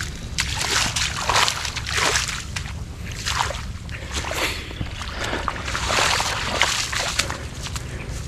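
Irrigation water flows into a farm field, splashing and sloshing in uneven, loud surges with a constant rushing wash beneath.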